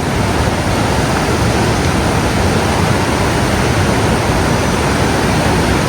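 A flooded river in a forest, swollen and yellow after daily afternoon rain, gives off a loud, steady, broadband roar that holds unbroken throughout, with no voices over it.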